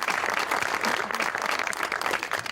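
Studio audience applauding a performer on a Pakistani comedy show, a dense, even burst of clapping from the crowd that continues without a break.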